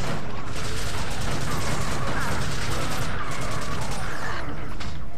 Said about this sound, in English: Keep shooting him in the back